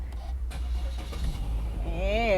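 A car engine cranks and catches by push-button start near the end, settling into a low idle hum after a brief stretch of cabin noise and faint talk.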